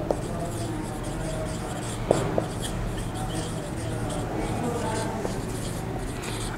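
A teacher's chalk or marker scratches across a board in short strokes while writing out the meaning of a line, heard up close under a continuous room hum and steady speech.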